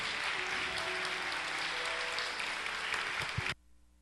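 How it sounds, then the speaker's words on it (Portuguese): A church congregation claps together in sustained applause, a dense even patter that carries on for several seconds and then cuts off abruptly into near silence. "Dá uma salva de palmas aí para eles"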